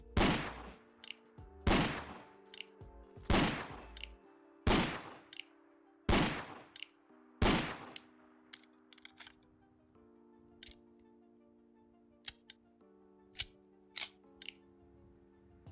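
Revolver rifle from a Fallout 4 mod fires a string of sharp, loud shots in a steady rhythm, then gives way to quieter metallic clicks and clacks of reloading, with no voices.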